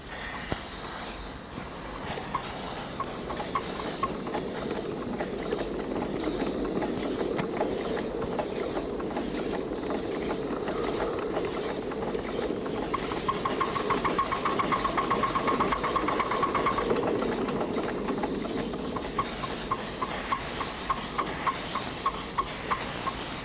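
Live steam miniature locomotive at a New England live steamers track, running steadily with rhythmic chuffing and a hissing rush as the cylinders are blown out, heard at moderate distance without talk.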